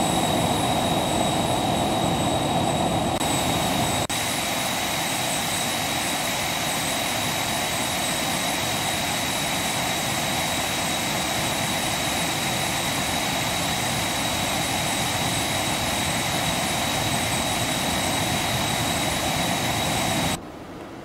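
Simulated jet engines of a Phenom 300 business jet in the X-Plane 11 flight simulator make a steady, loud whine and roar that holds constant for about twenty seconds with no talking, then cuts off abruptly at the end.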